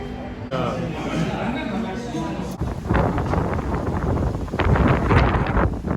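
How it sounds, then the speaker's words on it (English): Gusty wind on a blustery, stormy winter day with light rain buffets the microphone in bursts, rumbling low and loud, while a person talks nearby. "This windy, stormy weather"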